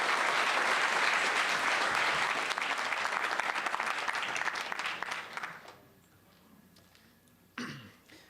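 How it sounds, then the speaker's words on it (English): At a bipartisan community forum, an audience applauds loudly and densely for about five seconds, then the clapping fades to a quiet room with a single short noise near the end. "So can we give them one more round of applause?"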